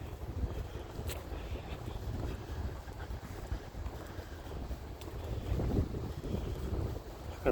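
Gusty wind buffets along a nature preserve trail, a loud, steady low roar with rumbling surges and a few faint rattles, no voices.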